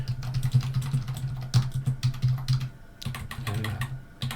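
Close, rapid typing on a computer keyboard in bursts of clustered clicks, with a brief pause near the middle before the keystrokes resume, over a low steady hum.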